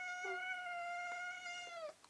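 A pet cat gives one long, drawn-out meow close to the microphone, steady and wavering slightly before trailing off, with no talking over it.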